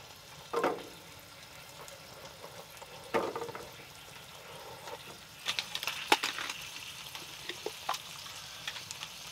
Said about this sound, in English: So we're gonna add in our garlic.